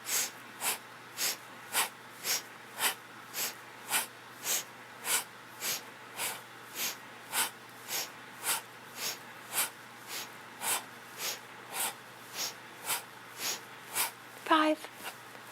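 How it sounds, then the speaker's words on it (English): Quick, forceful breaths keep an even rhythm through a yoga sequence of little shoulder lifts and drops, more than twenty close sharp huffs at about one per second, with a brief rustle near the end. "we'll do little quick shoulder lifts and drop with quick breaths"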